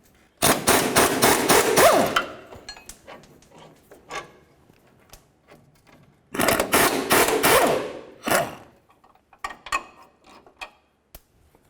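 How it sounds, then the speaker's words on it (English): Rapid bursts of metal hammering on a steering linkage bar of a 1999-2007 Chevy Silverado, two long flurries of fast, loud blows separated by scattered single taps and clinks, ringing close by. "while we hammer on this right there"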